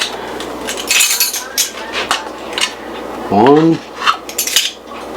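A metal teaspoon clinks and scrapes against dishes while baking powder is measured out for homemade cornbread, with a few bright taps and a brief spoken word partway through.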